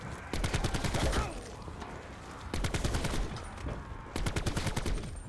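Three bursts of rapid automatic gunfire in Call of Duty: Black Ops 4 Zombies, each lasting about a second or two, loud and close, separated by short pauses.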